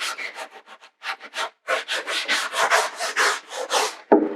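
Scouring pad scrubbing old finish off wooden furniture, a series of close, rhythmic rubbing strokes with short pauses, ending in a sharper scrape.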